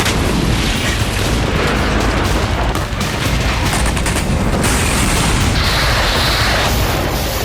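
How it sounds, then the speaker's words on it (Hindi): Dense, continuous rumbling blasts and booms of bombs falling on northern Gaza at night fill the clip, loud and sustained like a barrage of distant explosions with no pauses. "उत्तरी गाजा में पूरी रात बमबारी होती रही।"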